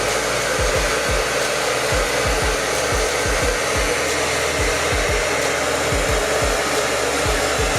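Hair dryer blowing steadily on a wig, a loud, close, constant whoosh with a low motor hum and repeated soft thumps of handling or airflow bumps, running without pause and with no talking.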